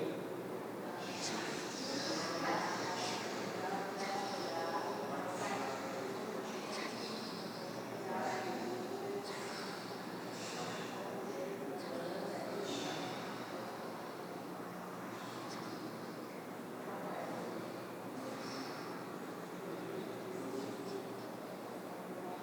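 A group of people vocally imitating a river together, a mass of overlapping breathy whooshes, hisses and murmurs rising and falling in loose pulses, sustained for about twenty seconds.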